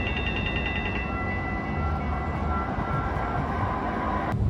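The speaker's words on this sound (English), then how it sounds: "There goes a train." A Portland MAX light-rail train passes on single-tracked line, a loud steady rolling rumble with a short tonal horn or bell at the start, heard alone and close.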